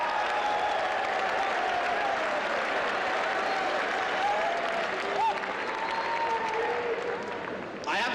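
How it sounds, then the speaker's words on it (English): Steady audience applause fills a room at the Naval Academy, a dense continuous clatter of many hands from start to finish, with a few faint voices poking through near the end. "How about we give him a nice round of applause?"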